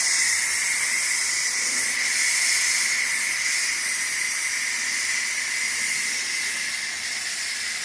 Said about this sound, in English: the steam comes out. Blows out a little bit of water, but that's it.